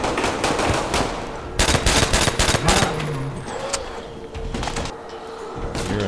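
Rapid video-game gunfire from Call of Duty: World at War, a dense, loud run of automatic shots with bursts and short pauses, continuing throughout without speech.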